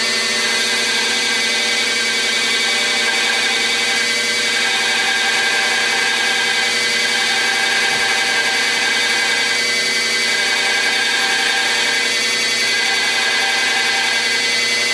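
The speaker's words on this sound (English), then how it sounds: "now I'm going to fine tune these grinds right in here with a 1/2 inch wheel on my grinder" A bench grinder fitted with a half-inch wheel runs continuously and loudly, a dense steady whine while fine-tuning the grinds on a sub-hilt knife blade, with no voices.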